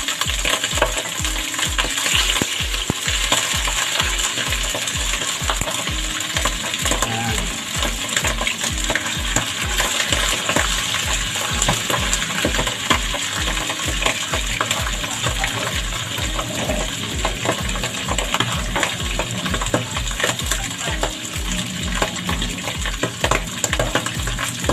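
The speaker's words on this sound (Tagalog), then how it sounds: "Ingat-ingat lang po dahil masyadong matalsik ang mantika" Boneless milkfish (bangus) fries in heavily splattering oil, a loud, continuous crackling sizzle with popping spatter that holds steady throughout, and no voices.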